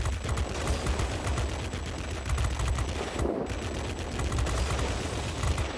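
The machine guns of an F6U Pirate fighter fire in the World of Warplanes video game, a dense, continuous rattling stream close up that breaks off for a moment, then resumes at full volume.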